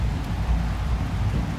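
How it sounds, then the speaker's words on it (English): Pouring rain in the Blood Bowl III video game makes a steady, dense, rumbling wash with no breaks and no voices. "Pouring rain."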